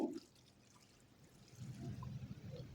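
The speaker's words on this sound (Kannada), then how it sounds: "ಈಗ ಇದಕ್ಕೆ ನೀರು ಕುಡಿಯೋ ಗ್ಲಾಸಲ್ಲಿ ಒಂದು ಅರ್ಧ ಇಂದ ಮುಕ್ಕಾಲು ಗ್ಲಾಸಷ್ಟು ನೀರನ್ನು ಸೇರಿಸ್ಕೊಳ್ತೇನೆ" Water poured from a drinking glass into a ridge gourd bajji batter with turmeric, a soft low splashing trickle that swells in the second half after a brief clink, close and alone.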